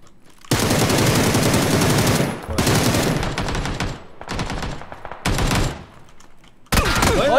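Loud automatic gunfire in PUBG, several long sustained bursts separated by short pauses, with fainter shots between the volleys.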